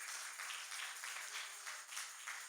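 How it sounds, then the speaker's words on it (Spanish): A church congregation applauds during a Spanish-language worship service, a dense, steady wash of many hands clapping, moderately distant and continuous without voices. "Dele fuerte el aplauso a Cristo."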